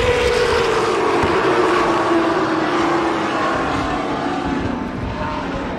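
Late model race cars roar around an oval track during the first heat race, a loud, continuous wash of engine noise that fades slightly toward the end, with no voices.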